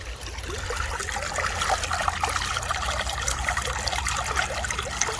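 Water trickles and burbles steadily through a big creek cutting through glacial ground in Ohio, a continuous close wash with no talk.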